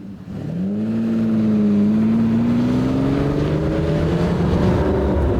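A Lamborghini Countach LP5000 Quattrovalvole V12 accelerates on the road, heard from inside: a loud, steady engine note rises in pitch through a gear, with no talk over it.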